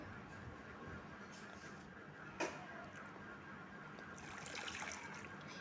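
Gongura leaves washed by hand in water, a quiet trickling and sloshing with one brief splash, faint and close, with no speech.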